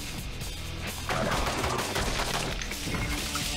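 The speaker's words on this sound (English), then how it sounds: "the guys here do take a good number of shots" Enemy gunfire in the video game Fracked, a dense, steady barrage of overlapping shots that grows louder after the first second and keeps rattling without pause, no voices over it.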